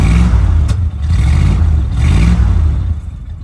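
A 1979 Dodge Ramcharger that sat unused for more than fifteen years revs loud and close, its engine swelling and easing in a couple of surges over a low rumbling drone. No one speaks over it.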